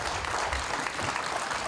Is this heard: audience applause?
yes